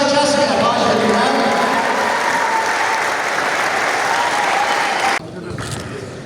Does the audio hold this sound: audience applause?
yes